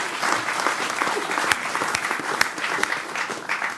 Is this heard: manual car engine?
no